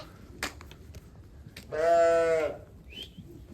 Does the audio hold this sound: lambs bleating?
yes